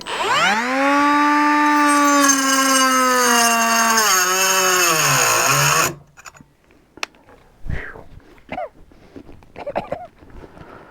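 A Hyper Tough cordless cutoff tool spins with a loud, tonal whine that slowly drops in pitch for about six seconds as it cuts into a brick, then stops abruptly, leaving scattered handling clicks and knocks.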